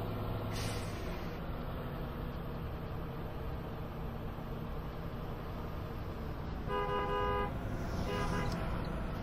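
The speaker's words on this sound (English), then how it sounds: "That's a high honk, by the way, Ed." Continuous engine rumble of a bus in the video game Rigs of Rods, with a couple of short, high horn toots near the end, no voices.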